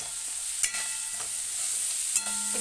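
Masala spices roasting in a pan for a quick village-style goat brain fry, a steady soft sizzle with a couple of sharp scrapes of a spoon against the pan, heard alone and close.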